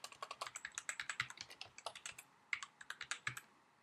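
Typing on a computer keyboard in Word 2011 on a Mac, a quiet, quick run of close key clicks in an uneven rhythm, heard alone.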